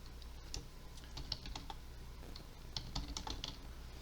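Computer keyboard typing while notes are written during photo editing, a quiet irregular patter of key clicks in short bursts with pauses, close and alone.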